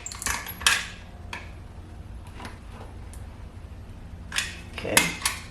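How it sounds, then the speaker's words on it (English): Scraping excess caulk off a window sill: a scattering of sharp metallic scrapes and clinks, a few bursts near the start and a cluster toward the end, with quieter scratching between them and no talking. "I'm just going to scrape this off"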